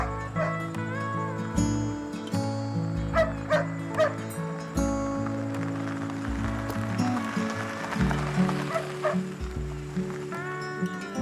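A dog barks in short, scattered bursts, fairly faint and partly buried under a dense, sustained music score in a dramatic film scene, with some running or movement sounds mixed in.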